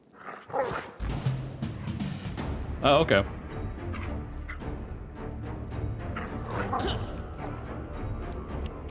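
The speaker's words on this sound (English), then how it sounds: "Dude's just being attacked by a dog." A dog in Pathfinder barks and snarls while attacking a man, in sharp repeated yaps and growls among clashing game effects, with a brief spoken reaction from a player.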